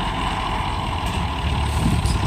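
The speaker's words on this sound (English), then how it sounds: "Even though it's an old worn out tractor, it needs a full engine rebuild, top end and bottom end." An old, worn-out Ford 8N tractor engine runs steadily as a loud, continuous low rumble with no break, heard close and without talk.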